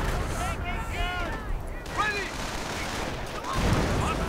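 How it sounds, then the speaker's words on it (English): Battle sounds in a strategy video game: a grenade going off amid bursts of gunfire and fusillade, with clustered cracks and booms throughout, fairly loud and continuous, with a few warbling tonal effects over the top. "Pioneers getting murdered, grenade going off."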